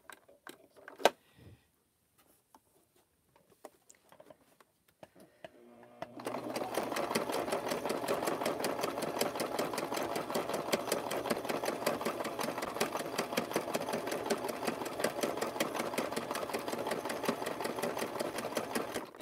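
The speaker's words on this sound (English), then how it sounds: "this sewing machine is faster than the other sewing machine" A sewing machine stitching a rope bowl starts after a few quiet handling clicks, then runs steadily with a fast, even mechanical whirr and rapid needle chatter for about thirteen seconds, close and loud.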